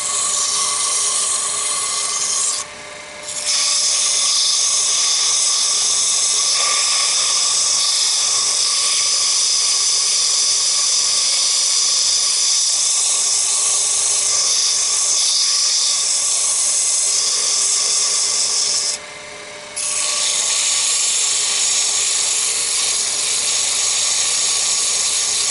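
A wooden chess rook spins on a lathe as its top is smoothed, a loud, steady high-pitched whine running unbroken for nearly half a minute, with two brief dips where the tool lifts off.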